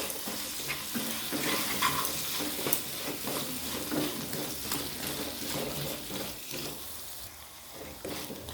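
Potatoes with onions, salt and turmeric are stirred in a pan for a potato and soybean curry, giving a soft, fairly faint sizzle with irregular scraping strokes close by.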